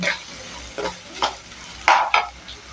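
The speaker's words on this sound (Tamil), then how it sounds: "வெங்காயம் ரொம்ப வதங்கணும் இல்லை ஓரளவுக்கு வதங்கினா போதும்" Onions and urad dal fry in a pan for cabbage poriyal, with several quick, close scraping stir strokes at irregular intervals over a soft, steady sizzle.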